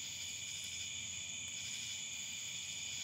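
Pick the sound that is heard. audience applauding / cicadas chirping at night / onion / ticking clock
cicadas chirping at night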